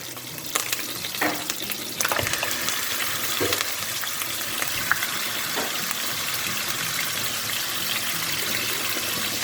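Chicken frying with garlic-ginger paste in a hot pan, a steady close sizzle and crackle broken by the clatter of stirring, with no one talking.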